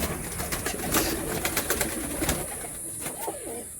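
Teddy pigeons cooing inside a Kolkata loft, soft repeated throaty coos from several birds close by over a low background hum.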